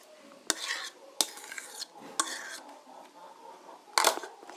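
Potatoes being stirred in a pot with a utensil, with a few sharp metallic clacks against the pot and soft scraping between them over a quiet, faint background.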